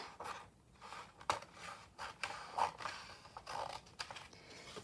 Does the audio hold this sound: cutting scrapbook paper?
yes